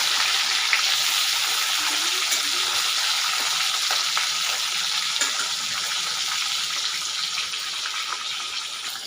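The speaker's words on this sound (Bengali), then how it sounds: "এরকম পুরো মাছগুলোকে আমি লাল লাল করে একদম ভেজে নেবো" Pieces of katla fish frying in oil, turned so each side browns, give a steady, dense sizzle with a watery hiss that runs evenly throughout, close and moderately loud with no voices.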